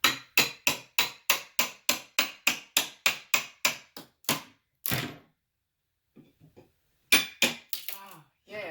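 Old window trim is pried and knocked loose with a rapid series of about fifteen sharp, evenly spaced wooden cracks and knocks, close by, then a quiet gap and a few more hits.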